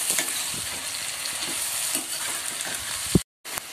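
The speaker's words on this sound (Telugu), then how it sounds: "ఇప్పుడు ఇందులోకి బాయిల్ చేసిన బంగాళదుంపలు అయితే వేసేసుకుందాం వీటిని కూడా కాసేపు ఫ్రై చేద్దాం" Boiled potatoes fry with tomatoes in a pan for an egg and potato curry, with a continuous close sizzle and soft stirring knocks, a sharp clank near the end, then a brief gap.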